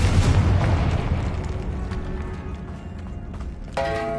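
A Confringo blasting spell bursts in Hogwarts Legacy with a loud, close boom, followed by a rumbling decay and a sharp pop near the end.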